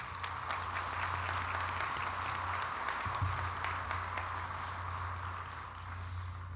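Audience applause at a college commencement ceremony, steady sustained clapping from a large crowd in a hall, even and moderately loud, with a low hum underneath.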